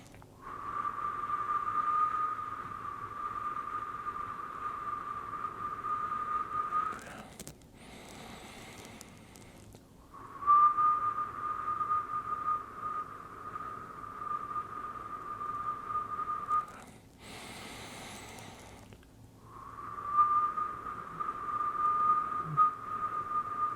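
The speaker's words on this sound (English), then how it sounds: "just to whistle and hold that same note for about 4 to 6 seconds" A person whistles a single steady note, holding it for several seconds, then pauses with a breath before repeating; three long held whistles, soft and close.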